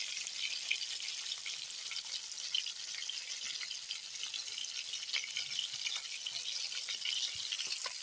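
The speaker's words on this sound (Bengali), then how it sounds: "মাছ সবই তেল ভাজা হচ্ছে" Fish and lentil bori fry together in oil, producing a constant, fairly quiet sizzle with small scattered pops and crackles and no speech.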